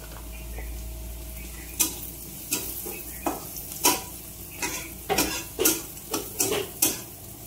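Onion frying in a pan under a steady low sizzle, with repeated sharp scrapes and taps of a spoon stirring against the metal. The strokes come in an uneven rhythm, close and distinct, and no voices are heard.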